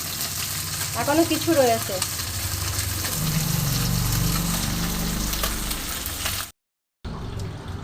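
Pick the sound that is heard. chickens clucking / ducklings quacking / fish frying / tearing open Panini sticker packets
fish frying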